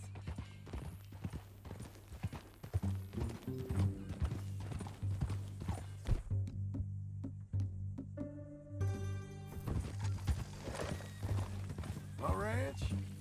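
Rhythmic hoof clops from a horse walking in the video game Red Dead Redemption 2, heard under a low musical drone while people talk, with a brief whinny near the end.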